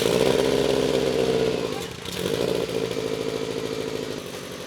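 Subaru fitted with a full HKS turbo-back exhaust, idling and revving steadily with a deep rumbling burble, heard from somewhat far back with a brief dip in the middle.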